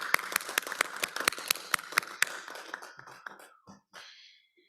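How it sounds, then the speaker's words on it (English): A small audience at a transit authority board of directors meeting gives a short round of applause: sharp hand claps ring out close and clear, then thin out to a few scattered claps and fade. "join me and show our appreciation with a round of applause"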